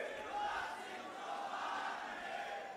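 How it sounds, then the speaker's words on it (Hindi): Crowd cheering and chanting slogans at a political rally in Pandhana, Khandwa district, where an MLA is speaking: a faint, distant, continuous roar of many voices rising and falling together. "हम सभी मिलकर के जोरदार जयकारा लगाएंगे और तालियां बजाएंगे"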